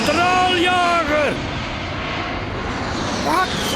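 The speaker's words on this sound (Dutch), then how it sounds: "die straaljager" A jet fighter roars past overhead, loud and continuous, its engine pitch sweeping downward as it passes, with a voice talking over it.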